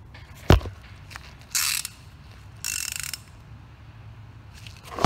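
A socket wrench ratchets in two short clicking bursts, following a single sharp knock, as it loosens the oil drain plug on a 3.6L Pentastar V6 eTorque in a 1500 pickup; close, with no talking.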